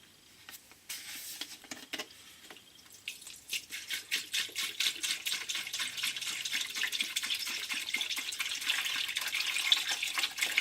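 Water pours steadily into an ultrasonic cleaner tank, starting faint and growing into a continuous close splashing trickle.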